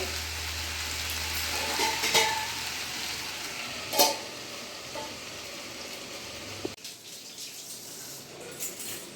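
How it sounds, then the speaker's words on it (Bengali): Elephant foot yam curry sautéing in a pan, a steady moderate sizzle with a few stirring knocks that drops away abruptly near the end, as if the heat or lid changes, with no talking. "আমি এটা ভালো করে কষিয়ে নেব।"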